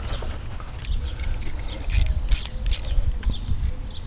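A ratchet tool clicks in quick bursts while loosening screws on Ford Ranger door speakers, with rapid close-up ratcheting and faint metallic jangling.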